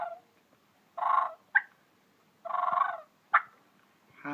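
Two bursts of turkey-like clucking and purring, each followed by a short sharp cluck, made by a person imitating the bird, alone and close.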